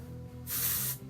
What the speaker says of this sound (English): So I just spray it literally through my roots